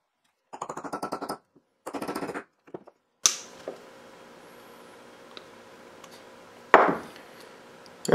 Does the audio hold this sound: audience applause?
no